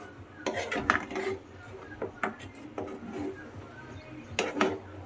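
A spoon scrapes and clinks against a pot while creamy chicken malai gravy is stirred for an Afghani-style handi, giving a few close, sharp knocks and scrapes spread across the stretch.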